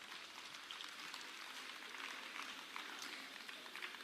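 Faint crowd applause at a St. John's school Senior Secondary Day celebrating its 50th Golden Jubilee, a steady patter of many hands clapping at a distance for about four seconds.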